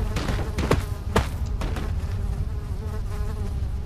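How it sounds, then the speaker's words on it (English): Flies buzz close and steady in a dark scene of the video game Amnesia, a continuous insect drone with a few sharp clicks early on and no talking over it. "Goddamn flies in my face."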